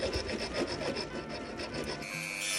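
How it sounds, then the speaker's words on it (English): A hacksaw cuts through the roof of a Hot Wheels toy car, giving quick, regular rasping back-and-forth strokes, close and moderately loud, ending in a softer hiss. "using a hacksaw following the lines to make the aero top roof"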